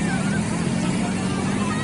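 Motorbike engine running steadily and close at a beach, a continuous low drone with no breaks from start to finish.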